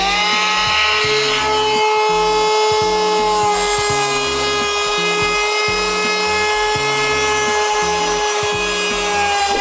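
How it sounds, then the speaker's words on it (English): A trim router fitted with a 1/8-inch round-over bit runs along the edges of small wooden kitchen boards, a loud steady motor whine with rhythmic cutting passes, close and uninterrupted by talk. "I've got an 1/8 of an inch round over bit chucked up in my trim router, and we'll just run that around the edges"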